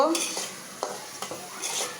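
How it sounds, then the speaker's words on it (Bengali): Prawns and onion stir-fried in a hot pan give a steady, close sizzle, broken by a few sharp scrapes and clinks of a spoon against the metal. No one speaks. "তো এটাকে আমি ভালো করে কষিয়ে নিব"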